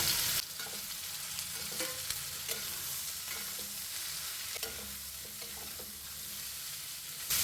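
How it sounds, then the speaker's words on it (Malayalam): Steady close sizzling of ginger, green chilli, garlic and onion frying in a pan, with soft scraping stirs through it, no voices, for a Kerala prawn dish. "ഇഞ്ചിയും പച്ചമുളകും വെളുത്തുള്ളിയൊക്കെ മൂത്തുന്നുണ്ട്"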